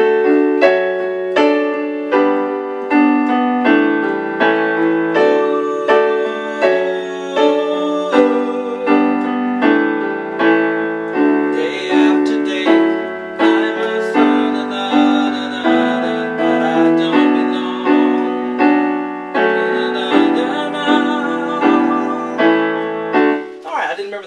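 Solo piano performance of a song: steady chords and a clear melody line played at an easy pace, close and moderately loud, with no voices.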